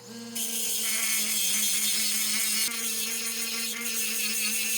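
A cheap $50 tungsten grinder spins up and runs steadily with a high whining hum and a bright buzzing overtone, close and continuous, with a small shift in pitch partway through.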